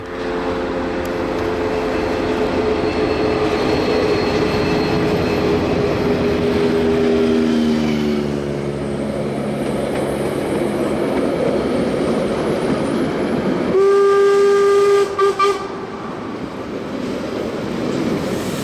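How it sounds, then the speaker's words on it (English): A steam locomotive hauling a train rumbles past close by on the North Island Main Trunk near the Manawatu Gorge, with a loud, steady roar and rattling wheels, its horn sounding long sustained tones, first lower and later a higher blast. "hauled the train north along the North Island main trunk"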